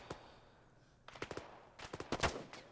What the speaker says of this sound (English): Fully automatic weapon fire.